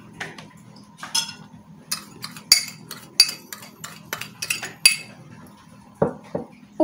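A metal spoon clinks against a pot on the stove as two spoonfuls of sugar go into water for homemade churros dough, giving a series of sharp, close clinks and scrapes at an irregular pace.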